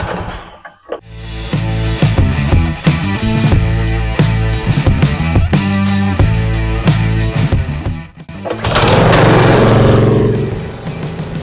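A small minibike engine runs loud and rough nearby, sputtering and surging unevenly, dipping briefly before it picks back up and roars again.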